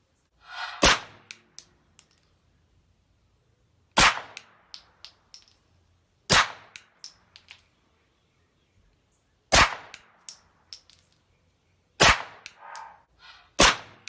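Five sharp gunshots ring out several seconds apart, each followed by a metallic clink; some cracks are suppressed and sound muffled, others unsuppressed and loud and punchy.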